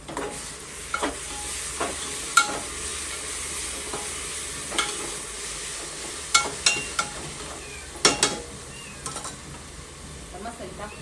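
Spices being stirred into a frying tomato paste masala for chicken biryani, with a steady low sizzle beneath intermittent scrapes and knocks of a spoon against the pan, close and moderately quiet.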